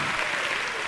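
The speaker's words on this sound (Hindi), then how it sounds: "जोरदार ताली बजाकर इसका सम्मान करो।" A crowd at a Jain religious question-and-answer gathering claps loudly in a brief burst of dense, steady applause.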